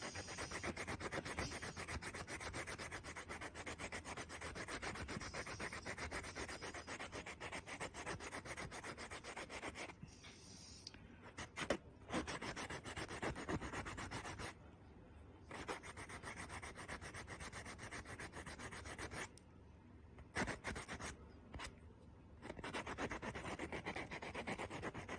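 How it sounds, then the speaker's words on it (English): Steady abrasive rubbing as the edge of a polymer clay ring band is sanded by hand, continuous and close with a few brief pauses, no voices. "I'm going to sand this edge too"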